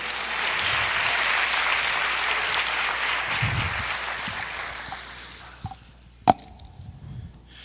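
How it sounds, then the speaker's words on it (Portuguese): Church congregation applauding at a sermon on the apocalypse, a loud, sustained wash of clapping from many hands that thins out toward the end, followed by a few scattered sounds and a sharp knock near the close. "Aplauda o Senhor."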